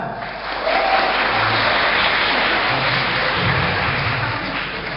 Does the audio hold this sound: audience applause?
yes